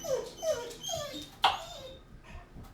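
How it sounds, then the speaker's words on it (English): Dogs at home yip and whimper in a run of short high cries, with one sharper bark-like yelp in the middle, close and fairly loud. "Okay, well, I said no barking."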